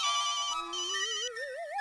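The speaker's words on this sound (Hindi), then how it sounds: "नहीं वो फोन मेहता साहब का है ना तो वो उठा के मैं बात करूंगा" A phone ringtone plays alone, a clear electronic melody with rising tones and no voices.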